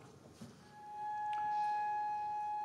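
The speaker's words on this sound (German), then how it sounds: "die macht das Cello mit einem Flageolettton" A thin, flute-like cello flageolet harmonic appears, one high pure tone that enters softly and holds steady over a quiet orchestral background, evoking midday heat.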